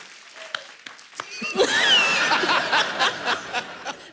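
Studio audience on a comedy talk show breaks into applause mixed with laughter, clapping swelling in after a brief voice and chuckles, with the crowd's claps rising and falling in bursts.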